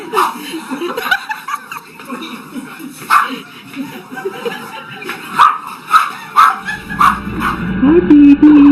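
A puppy yips and barks in short bursts, close by, with laughter and chatter in the room around it and a higher whine rising near the end.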